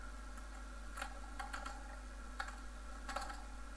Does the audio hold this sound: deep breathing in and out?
no